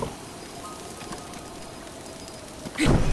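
Rain falling in the video game Zelda: Breath of the Wild, a steady soft patter across the whole stretch, with a louder burst of noise near the end.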